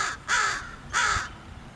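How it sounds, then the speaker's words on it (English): Crow in a cemetery giving two loud harsh caws close by, about half a second apart, with quiet outdoor background and no talk. "We got a crow right next to us."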